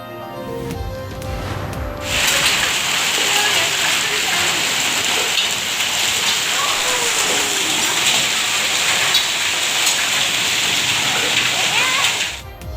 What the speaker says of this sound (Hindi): ईद के पहले रोज पंजाब के मुख्तलिफ अजला में बारिश और जालाबारी।